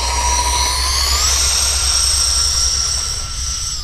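E-flite F-14 twin 40mm electric ducted-fan RC model jet taking off outdoors, a loud continuous whine rising in pitch then holding steady, close and alone.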